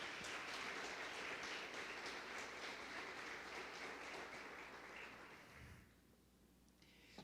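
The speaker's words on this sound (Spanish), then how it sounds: "Dele fuerte palmas al Señor" A congregation claps loudly and steadily during a prayer vigil sermon, a dense wash of hands that fades after about five seconds into quiet.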